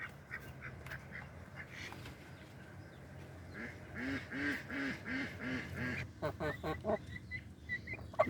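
Ducks quack repeatedly at close range, the calls growing busier and overlapping in the middle, then coming in quick separate honks toward the end, over a low steady background.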